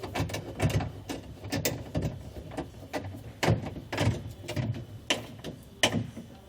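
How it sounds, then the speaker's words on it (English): Clamps on a Yakima SkyBox NX 16 rooftop cargo box being tightened onto crossbars on a 2021 Ford F-150, giving a run of close, crisp mechanical clicks and ratcheting snaps in an irregular rhythm, with no talk. "we can listen to that torque spec click once you have that desired tension"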